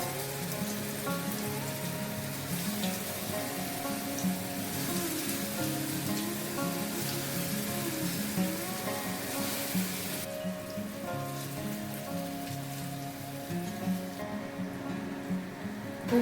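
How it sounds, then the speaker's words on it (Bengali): Green banana fritters for kofta frying in hot oil in a wok, a dense steady bubbling sizzle like rain that holds evenly throughout, with faint background hum and no talking. "তেলটা গরম হলেই সব বড়া আমি এক এক করে ভেজে নেব"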